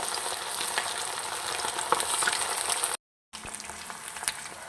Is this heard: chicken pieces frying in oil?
yes